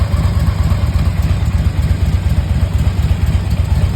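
A used 2006 Harley-Davidson Ultra Classic Electra Glide touring motorcycle idles close by, a loud, steady low rumble with an even lumpy pulse and no talking over it.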